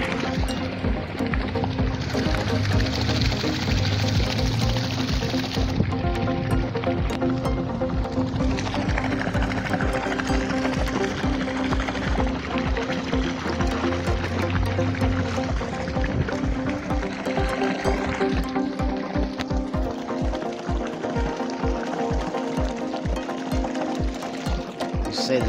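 Homemade electric outboard built from a 240V washing machine motor, run at 24V, pushes a small boat along a canal with a steady whirring drone and water swishing against the hull, continuous and fairly close throughout.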